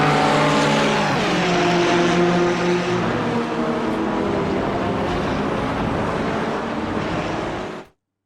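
BMW M4 GT4 race car in iRacing at Road America, its engine droning loud and steady with rising harmonic pitch as it accelerates through gears, continuous throughout and cutting off abruptly near the end.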